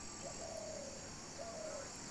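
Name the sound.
doves cooing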